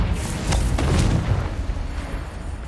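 A fiery Confringo spell blast in Hogwarts Legacy erupts as a deep, rumbling boom with a crackling, gritty tail that swells and then fades over a couple of seconds, loud and close.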